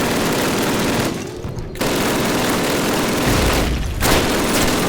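Enemy machine-gun fire in the Call of Duty 1 video game rattles in loud, dense sustained bursts, with two short gaps between the firing.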